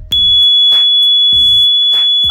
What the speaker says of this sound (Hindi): तो कुछ इस तरह से एक बहुत ही बढ़िया काम कर रहा है